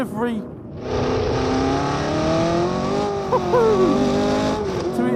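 A late-1960s Brabham race car on a track, its engine note climbing after a brief lull into a sustained loud whine with small pitch wobbles and a short blip near the end, accompanied by faint speech.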